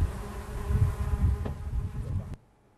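Bees buzzing among cherry trees in an orchard, a steady dense insect drone close by that holds for over two seconds before cutting off abruptly.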